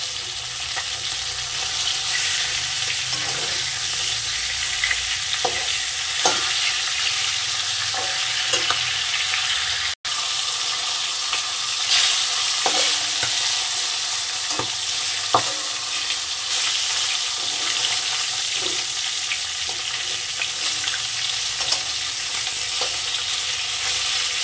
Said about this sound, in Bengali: মাছের মাথাটাকে আমি সুন্দর করে ভেজে নেব।